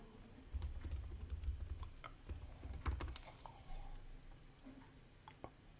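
Typing a username and password on a computer keyboard, with quiet irregular key clicks in short bursts, close up over a low background hum.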